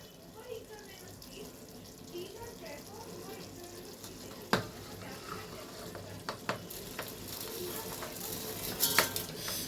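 Rice poured into a pan of paneer pulao and stirred: a soft, steady frying sizzle with scraping stir strokes and a few sharp clinks of a utensil against the pan, fairly quiet throughout.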